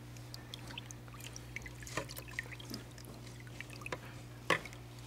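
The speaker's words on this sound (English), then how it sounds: "And you're going to mix all of this in really well." Liquid sloshing and dripping as hydroponic bloom nutrients are stirred into a gallon of water, soft scattered splashes and trickles over a low steady electrical hum.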